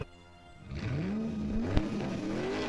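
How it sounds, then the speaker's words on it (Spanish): A car brakes hard with a rising tire squeal that sweeps upward over an engine drone, with a sharp thump midway, loud and close, as a dramatic sound effect. "ella frenó el carro muy duro"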